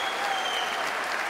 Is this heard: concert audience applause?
yes